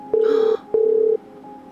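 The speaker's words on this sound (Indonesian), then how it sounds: "Berdering, guys. Gak diangkat" Phone call ringing out unanswered: two long, loud electronic ring tones repeating in a steady pattern with short gaps, a third beginning at the end, close and clear with no talk over it.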